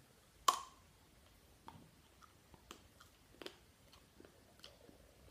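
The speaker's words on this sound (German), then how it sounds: "Ich werde mal reinbeißen." Biting into a bar of absinthe chocolate gives a sharp snap, then a string of soft, irregular chewing clicks, faint and close with no talking.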